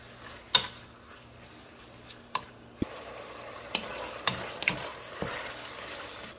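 A full pound of bacon piled several layers thick in a pot sizzles with a soft steady fry, broken by a few sharp scraping clicks as it is stirred.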